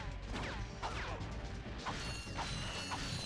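Bolts being collected in the video game Ratchet and Clank, a busy metallic jingle of clinking pickups and mechanical clatter over steady game background, fairly quiet with no talking.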